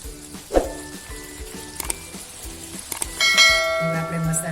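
Gravy poured into a hot tempering pan for sweet corn sabzi sizzles and spatters as it is stirred in, with a sharp burst near the start, scraping clinks of the spoon, and louder frying toward the end.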